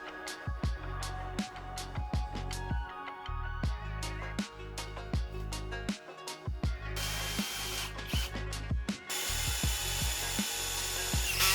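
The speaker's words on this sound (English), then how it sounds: "Use a Dremel to create a groove." A Dremel rotary tool buzzes in repeated short bursts as it grinds a groove into material, with a harsher, hissier stretch near the end; no talking.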